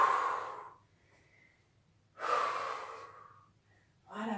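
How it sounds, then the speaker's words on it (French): Heavy, slow breathing after a gentle gymnastics workout: two long, loud exhales spaced a couple of seconds apart, with a third breath starting at the end, close and alone. "vous êtes un petit peu essoufflé à la fin de l'exercice"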